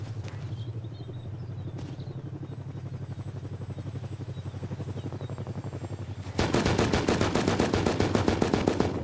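Gunfire in the survival game Rust, a steady rapid automatic burst rattling close and loud over a low background hum, growing louder and denser near the end.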